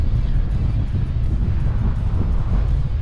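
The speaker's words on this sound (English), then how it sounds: "It is rather windy here" Strong wind buffeting the microphone at the Temple of Poseidon, a loud, constant low rumble with gusty roar throughout and no voices.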